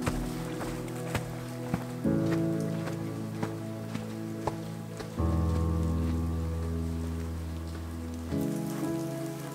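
Steady rain patters outside a canyon cave, with scattered sharper drops tapping nearby and a few low tonal hums shifting underneath; no talk.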